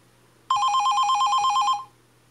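A telephone bell rings in a single steady electronic trill for just over a second, loud and close, alone against a quiet background before it is answered.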